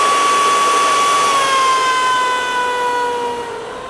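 A Dyson Ball upright vacuum cleaner with weak suction runs steadily and loudly up close, a whining motor tone with a slowly falling pitch that eases slightly toward the end.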